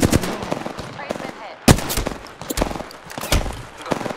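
Rapid automatic gunfire from the Apex Legends video game crackles in dense bursts of sharp shots, loud and close, mixed with other in-game effects.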